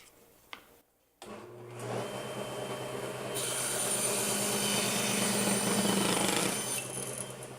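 A power saw set with its blade at 45 millimetres switches on after a short silence, spinning up into a loud, steady whine that holds close by, then begins to ease off at the end.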